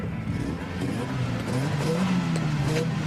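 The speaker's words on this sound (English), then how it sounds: "rev it again." A car engine revving up in a street scene, a moderately loud rising and falling engine drone with a rumbling low tone, steady throughout.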